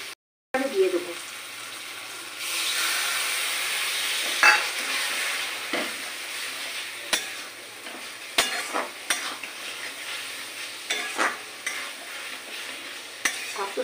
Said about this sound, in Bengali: ঘি আর তেল মিশিয়ে তো পেঁয়াজটা ভাজা হয়ে গেছে।